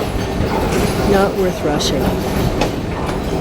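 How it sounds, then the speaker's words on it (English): A Paris Metro Line 14 train in a station, with a steady rumbling roar and brief squealing tones, while a person speaks briefly over it. "There's a train down there,"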